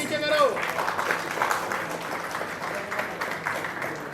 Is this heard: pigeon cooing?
no